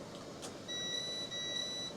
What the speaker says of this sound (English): and we'll hear a beeping.